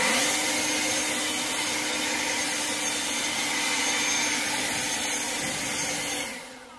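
An Ego electric leaf blower runs in normal mode, giving a steady, loud, broadband rush of air for about six seconds before it starts to wind down.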